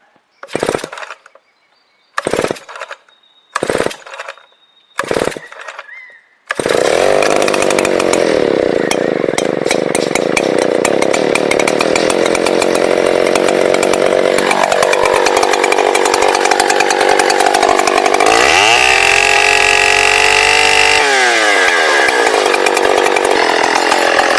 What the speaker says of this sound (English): this is my main felling saw